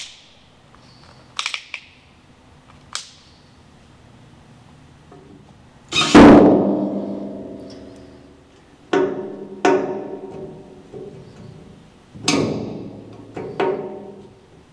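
Metallic knocks, scrapes and sharp clanks of tools working on the old fuel tank sender of a 1960 MG MGA 1600 roadster, irregular and close, with quiet gaps between strikes and no talking.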